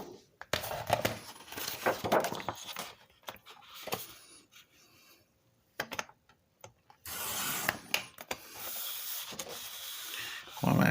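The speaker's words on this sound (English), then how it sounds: "We're going to cut the branding strip off." A paper trimmer slices the branding strip off a Jr. legal pad, its worn blades making repeated rasping, tearing strokes with brief gaps, and a longer grinding pass near the end.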